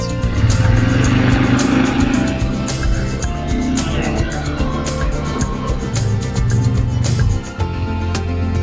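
A UTV in 2-wheel drive and low gear strains to climb a hill, its engine roaring loudly and continuously with rough, fluctuating revs throughout.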